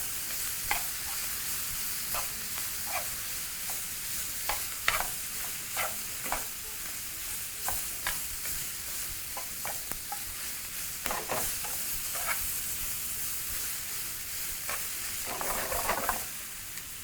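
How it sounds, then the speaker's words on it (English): Vegetables stir-fry in a hot pan beside turmeric rice, a steady sizzling hiss punctuated by frequent scraping and clacking taps as tongs toss them, close and continuous with no talking. "we're going to allow that to continue just grilling while tossing continuously for anywhere between 4 to 5 more minutes"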